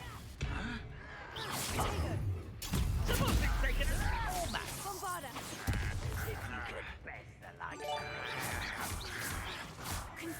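A Bombarda blasting spell in Hogwarts Legacy lands with a loud crashing burst and a swoosh, set against busy game sounds and voice-like tones.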